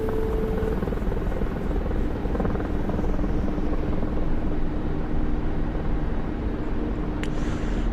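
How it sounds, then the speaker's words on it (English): A Mi-24 Hind helicopter in a video game produces a continuous heavy rotor and turbine drone, steady and loud throughout, with a brief sharp click near the end. "So you're not supposed to VTOL a Hind at max weight."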